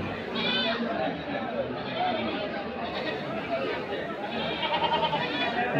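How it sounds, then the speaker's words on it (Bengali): Goats and kids crowd a busy livestock market at Hazratpur haat near Narayanganj; scattered bleats rise over a constant din of chattering buyers and sellers, with someone talking close by. "এখানে এত পরিমাণ ছাগল খাসি আছে যে পা ফালানোরও জায়গা নাই।"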